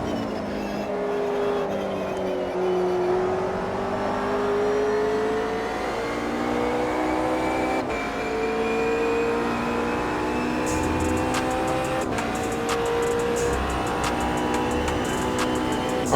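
A race car engine lapping Monza in Automobilista 2, a steady loud drone rising in pitch through the gears with brief shifts and dips as it brakes and accelerates again, heard alone without talk.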